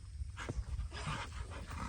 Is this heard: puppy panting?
yes